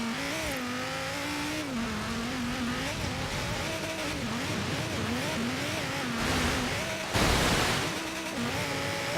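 A car engine in Forza Horizon 3 revs and shifts continuously, its pitch rising and falling through gear changes, loud and close, ending in a brief louder burst of noise.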